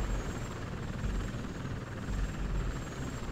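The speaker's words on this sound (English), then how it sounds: "What is that helicopter doing? Getting way too close." In the video game RAD, a helicopter flies close by with a loud, steady, low rotor rumble that carries on without a break.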